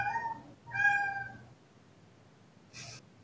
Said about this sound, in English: Is your cat dying? It's my cat.